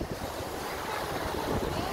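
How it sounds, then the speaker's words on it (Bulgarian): Sea waves wash steadily onto a beach under gusting wind that buffets the microphone, a loud and continuous roar with no break. "Да, ето и морето! Голямо морето!"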